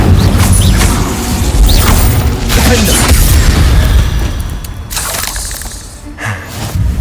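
Incendio fire spell cast in Hogwarts Legacy, a loud whooshing burst of flame with crackling, crashing impacts that surges early and fades toward the end.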